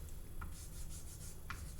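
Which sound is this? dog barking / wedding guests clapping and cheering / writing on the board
writing on the board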